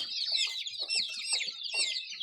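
Several Leghorn chicks and Andijan black chickens cluck and chatter continuously, close and fairly loud, with no talking.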